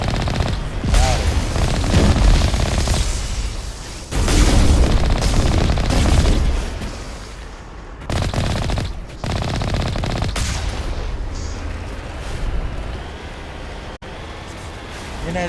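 Bursts of rapid gunfire and heavy booms come from a Mass Effect Legendary Edition firefight, loud and close, with pauses between volleys and engine rumble underneath.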